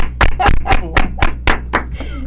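A small audience applauds after a cordel poetry recital, a short burst of about eight distinct, fairly loud hand claps in a quick, slightly uneven rhythm.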